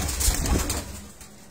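Breeder pigeons on a rooftop coo in soft, throaty bursts against a noisy, breezy background, the calls close and fading out toward the end.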